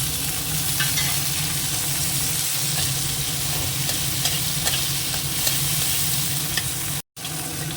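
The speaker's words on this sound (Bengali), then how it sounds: "পেঁয়াজটা ভাজা হয়ে গেছে" Onions fry in a pan with a loud, constant sizzle, and a spoon stirs and scrapes through them. The sound cuts out briefly near the end.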